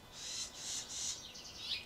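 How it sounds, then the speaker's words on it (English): Two finches and two wrens squabble over a fan, giving quick, high chirps in a steady burst-after-burst run, soft and a little distant, with no voices. "there's like 2 finches and 2 wrens, and they're competing over whatever is in that fan."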